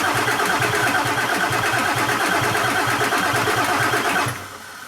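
The 7.3 Powerstroke diesel engine in a $300 auction truck cranks without catching, giving a loud rhythmic chugging of the starter that runs steadily for about four seconds and then cuts off abruptly.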